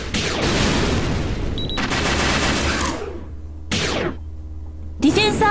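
Dense bursts of rapid gunfire in the Black Rock Shooter game, loud and close, broken by short silent gaps, with a final sharp burst at the end.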